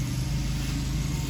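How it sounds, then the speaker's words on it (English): A lawn crew's engine-powered equipment runs nearby in a neighbor's yard, giving a continuous droning engine hum that stays steady and fairly loud throughout, with no talking. "Lawn crew is here for a neighbor of mine."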